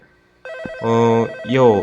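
A telephone rings inside a ramen shop video game, its electronic trill loud and close, sounding in two bursts over a brief quiet start.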